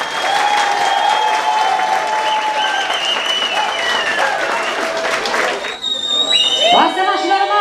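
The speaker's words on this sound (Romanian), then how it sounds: "Să aplaudați mirii noștri, aplauze frumoase!" Loud, sustained applause from a wedding crowd for the bride and groom, steady clapping over music with a band's tones, with a shift near the end as the music changes.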